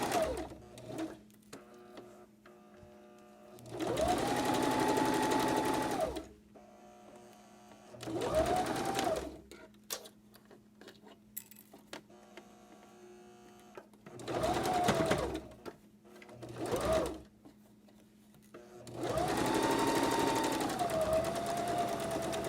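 A sewing machine stitching a fabric face mask runs in four steady bursts of several seconds each, a close whirring buzz with quiet pauses between runs and no talk.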